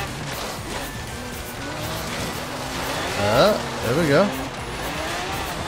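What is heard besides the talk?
Toyota FJ40 car driving in video game Forza Horizon 3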